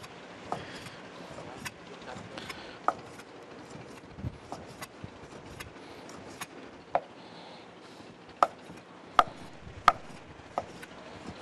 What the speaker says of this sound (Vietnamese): Sau khi đã sơ chế sạch tôm và thịt, chúng ta băm nhuyễn.